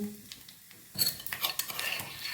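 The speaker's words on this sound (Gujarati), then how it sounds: "અહીં આપણું ઘી ગરમ થઈ ગયું છે તો અડધી ચમચી જેટલું આપણે જીરું ઉમેરશું" Cumin and dried chillies dropped into hot ghee, bursting into a sudden sizzle with light spoon clinks against the pan, close and fairly loud after a quiet start.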